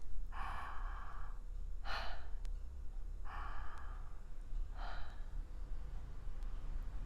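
A person breathes the name Yahweh with no consonants, making four slow, airy breaths in a steady rhythm of inhale and exhale, close and soft, with no talk.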